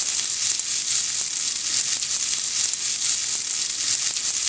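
Asparagus sizzling in a hot pan while being stirred, a steady bright frying hiss with faint scraping clicks from the stirring, close and constant.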